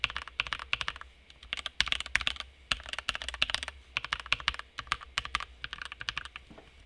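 Rapid, uneven key clacks from a Vortex VX5 mechanical keyboard fitted with silver switches, typed in quick bursts with brief pauses, close and crisp with no voices.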